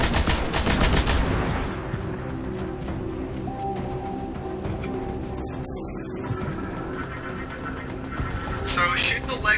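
Gunfire in the Destiny beta while shooting at an enemy's legs: a loud rattle of rapid shots opens the passage, followed by humming game noise and quieter bursts under ongoing talk.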